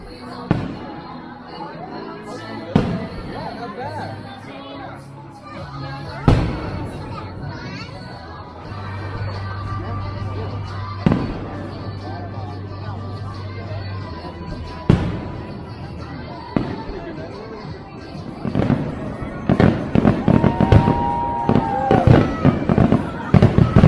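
Fireworks at a Busch Gardens summer-night show pop and boom repeatedly from a distance, with irregular bursts that build into rapid crackling toward the finale, while a crowd murmurs and people chat nearby.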